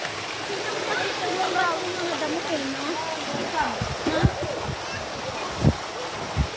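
Flowing water at a stream crossing in rural Aeta country, a steady rushing wash throughout, with people talking over it and a few splashing thumps.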